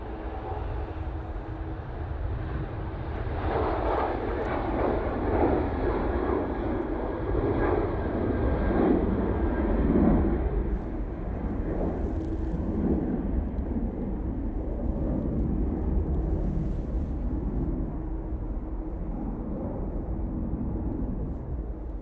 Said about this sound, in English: Anyhow, departure. Ryanair 737, looks like an 800 to me.